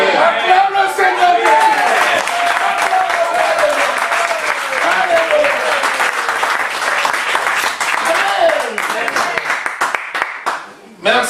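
A church congregation applauding and cheering in praise, a loud, sustained burst of many hands clapping with voices shouting and singing over it, fading briefly near the end.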